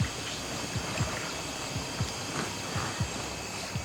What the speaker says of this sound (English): There's a lot of splashes going on.